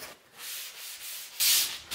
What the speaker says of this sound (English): So in sanding the corners